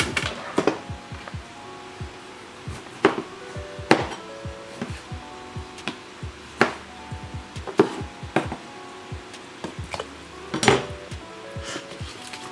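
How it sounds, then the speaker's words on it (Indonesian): Corn being chopped into big pieces for sayur asem, sharp irregular knife strikes on a board mixed with clinking of cookware, close and isolated with no talk. "ini jagung. Saya mau potong dulu. Ini potongnya gede-gede aja."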